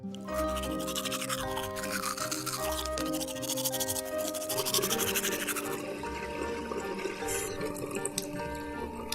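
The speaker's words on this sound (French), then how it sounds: "Il ne se faisait pas prier pour se brosser les dents" A child's teeth being brushed with a toothbrush: quick, steady scrubbing strokes, with soft water-like swishes, under a continuous bed of music.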